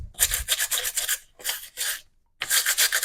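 A small vegetable brush scrubs the fuzzy skin of a loquat fruit in three close, raspy bursts of brisk back-and-forth rubbing, separated by brief pauses.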